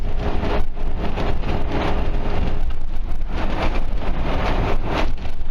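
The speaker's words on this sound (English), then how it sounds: "Now here comes the rain." Rain and road spray on I-90 West: loud, constant hiss of tires and drizzle inside a moving car on the highway, with wind rumble underneath and no speech.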